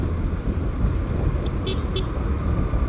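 Steady road rumble from inside a car travelling on a highway, a constant low drone of tyres and engine with a couple of faint brief tones over it and no talk.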